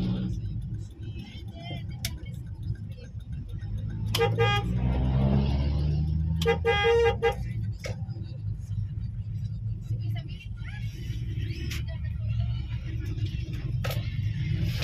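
Heavy highway traffic in the Philippines rumbles steadily while a car horn honks in a couple of short bursts midway, with other distant toots scattered through the low engine drone.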